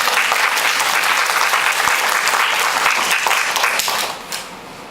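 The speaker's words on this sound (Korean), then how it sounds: "격려의 박수." Warm applause from an audience at a literature class presentation, steady clapping filling the room before tapering off near the end.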